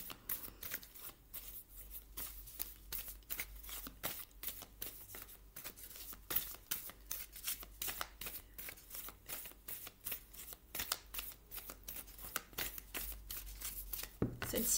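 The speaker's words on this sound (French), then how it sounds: "Allez, je mélange le jeu." A deck of oracle cards being shuffled by hand in rapid, steady riffling bursts, close and fairly quiet, running continuously with no talking.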